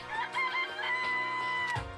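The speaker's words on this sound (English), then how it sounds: "It's a chicken." A chicken in the Danganronpa video game clucks and crows in short, repeated calls, loud and close, with a drawn-out crowing note near the end and no talk over it.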